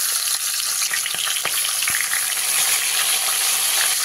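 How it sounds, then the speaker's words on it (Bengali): Fish heads sizzle in hot mustard oil in a wok, a loud continuous frying hiss dotted with sharp pops and crackles, close and without talk. "তেলটা গরম হয়ে গেলে একে একে মাছের মাথাগুলো দিয়ে আমি ভেজে নিই"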